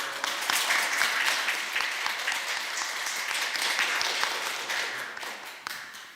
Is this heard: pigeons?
no